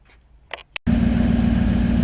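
After a couple of brief clicks, a Winnebago motorhome engine idles with a steady, low rumbling chug.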